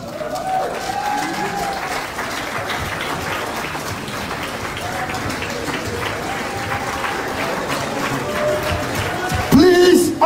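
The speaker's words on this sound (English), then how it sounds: "very big round of applause." An audience gives veterans a big round of applause at a gathering, with sustained clapping from a crowd and a voice talking over it. The sound swells louder near the end.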